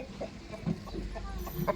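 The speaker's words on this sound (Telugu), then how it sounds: "మా కోడి పుంజండి ఎలా ఉంది?" A country rooster (native desi breed) gives a series of short, soft clucks at close range, scattered unevenly through a brief moment, over a low background hum.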